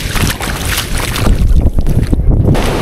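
Sea waves rolling in at Bakkhali beach, a loud, close rushing wash with gusty wind buffeting the microphone throughout.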